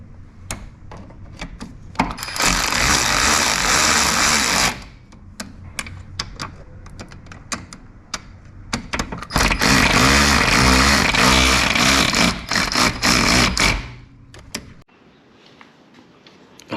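A wrench or ratchet tightens bracket bolts on a John Deere lawnmower during a shift cable repair, with two long bursts of fast, rattling clicks separated by scattered sharp metallic taps, close and fairly loud.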